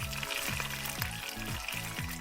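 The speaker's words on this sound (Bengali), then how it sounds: "আমরা খুন্তি দিয়ে মাছটাকে এপিট ওপিট ভালো করে ভেজে নেব।" Poa, a sea fish, fries in a pan while a spatula turns it, giving a steady close sizzle with rhythmic scraping strokes about every half second.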